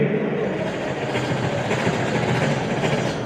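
A voice imitates a train heard from a distance, a steady, muffled rumbling drone with a soft chugging texture, performed on stage at a company anniversary event.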